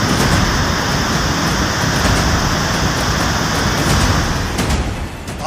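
Heavy rain pours steadily in the Himachal mountains during a cloudburst, a dense, loud, continuous hiss with a deep rumble underneath and no voices.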